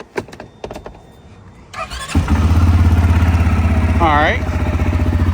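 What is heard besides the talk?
CFMOTO CForce 600 ATV engine starting and running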